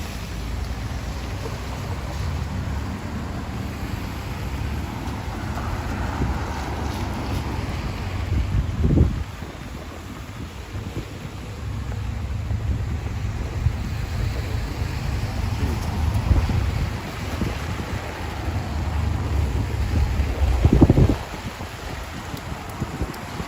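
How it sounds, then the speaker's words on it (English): Gusty wind buffets the microphone on a walk along a Brisbane street near the Bulimba ferry, a steady rushing roar that swells in a few strong gusts, with faint talk in places. "At times that wind really grabs the umbrella."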